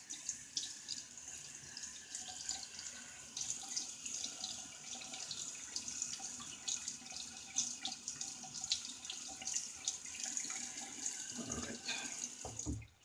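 Running tap water pours steadily as a Gillette President safety razor is rinsed under it, a continuous close splashing hiss with faint drips and clinks, ending with a brief louder splash.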